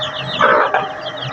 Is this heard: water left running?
no